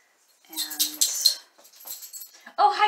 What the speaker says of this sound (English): My doggy just came in. I'm sure you heard him.